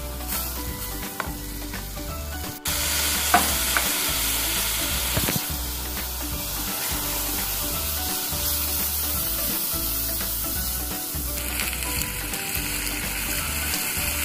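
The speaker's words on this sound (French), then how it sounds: "On ajoute le vin blanc et on laisse réduire." White wine poured over risotto rice coated in butter sizzles loudly and steadily while it reduces, with a sharp splash early on and faint stirring scrapes under the constant hiss.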